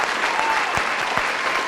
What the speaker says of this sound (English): So now you can clap.